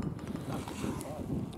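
Wind buffets the microphone on a downhill par three golf hole, a steady, close rumbling roar that stays loud throughout with a few stronger gusts.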